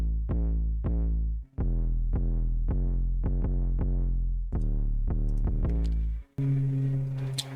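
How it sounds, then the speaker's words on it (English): Deep trap 808 bass hits, booming and sustained with pitched tails, played in a rhythmic pattern with short gaps, ending in a noisy burst; loud and alone. "Okay, now I'll show you what the 808s sound like."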